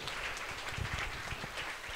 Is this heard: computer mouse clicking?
no